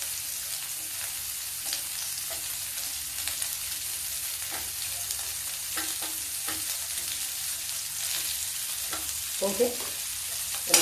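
Cut potatoes fry in a pan while being stirred, making a continuous close sizzle broken by scraping stir strokes, with a brief spoken word near the end.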